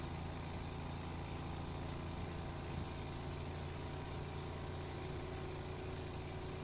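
An 1,800-pound car powered by a lawnmower engine, a steady faint droning engine hum with a constant low rumble and buzzing texture, running evenly without rises or breaks.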